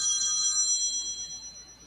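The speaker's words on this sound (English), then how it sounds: "You hear the phone? You hear it?" A telephone rings at a steady electronic trill, a bright bell-like tone that holds clearly for a couple of seconds and then fades away, with no talking.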